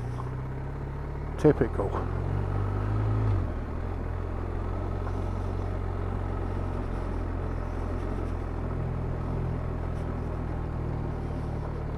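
An oncoming vehicle passes a motorcycle on the rough, narrow Priests Leap mountain road in the Cork and Kerry mountains. The pass comes as a brief swell over steady engine and wind rumble, with a short spoken word.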